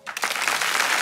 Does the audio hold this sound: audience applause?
yes